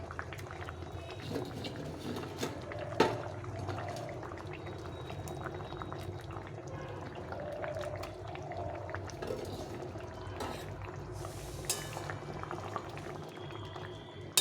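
A pot of curry with fried lentil fritters bubbles at a low, continuous simmer, with soft popping and gurgling close by and a few scattered clinks, heard without talking.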